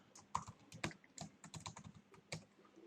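Quiet, close keystrokes on a computer keyboard, irregular clusters of sharp clicks with brief pauses between bursts of typing, no one speaking.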